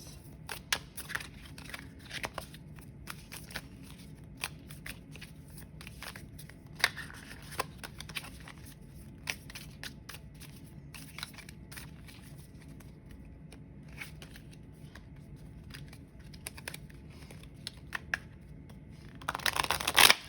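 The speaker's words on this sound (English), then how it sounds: "I don't know why I feel the need to shuffle this so much" Soft, scattered crisp flicks and riffles of cards being shuffled, fairly quiet and irregular, with a louder burst of shuffling at the very end.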